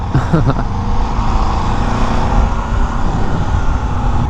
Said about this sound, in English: Oh, I love the sound of this bike. It's such a nice rumble.